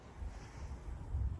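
Moderate wind gusting during a March rain shower outdoors, a steady low rumbling buffet across the microphone with no voices.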